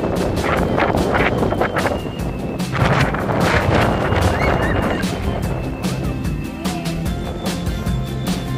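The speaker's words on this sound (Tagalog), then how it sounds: "Hangin ngayon." Strong outdoor wind buffets the microphone at a riverside picnic spot, a loud continuous roar with gusty rumble throughout, a few faint bird calls and distant sounds behind it.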